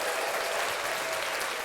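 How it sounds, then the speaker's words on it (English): Steady applause from a podcast audience fills the whole moment, dense and even with no pauses. "So let's give her a round of applause"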